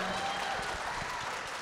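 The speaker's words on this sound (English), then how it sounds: "If we could hold the applause, please." Audience applause at a Democratic mayoral debate in New London, a dense steady clapping from a crowd that fades slightly toward the end.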